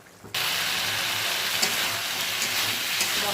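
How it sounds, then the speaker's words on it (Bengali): Spices sizzle steadily in hot oil for a thin rui fish curry with potato and drumsticks, a loud, continuous hiss that starts abruptly and stays even, with occasional small pops and stirring scrapes. "মশলা কষা হয়ে যাচ্ছে"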